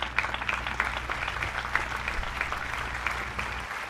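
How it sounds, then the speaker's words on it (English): Graduation audience applauds the teachers, a steady wash of clapping from a large crowd, even and sustained throughout with no talk over it. "Graduates, join me in giving your teachers a round of applause."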